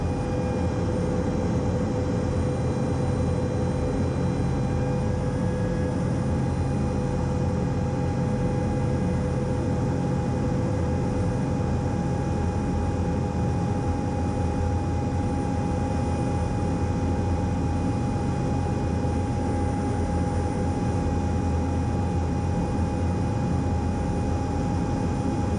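A small airplane's engine drones steadily and loudly through a banking turn over swampland, a constant, even hum with no voices.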